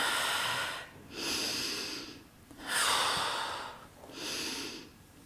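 Slow, deep yoga breaths, alternating inhale and exhale in an even rhythm, close and clear with hissing airflow and no talk.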